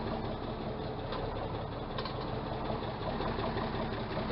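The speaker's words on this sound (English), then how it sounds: "Cold startup." Engine on a cold startup just after new injectors were fitted, running with a steady, uneven mechanical clatter and knock, fairly quiet and without speech.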